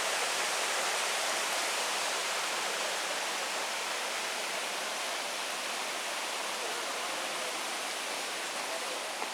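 A mountain stream rushes steadily near waterfalls in Blowing Rock, a dense, even hiss of flowing water filling the scene for several seconds without any voices.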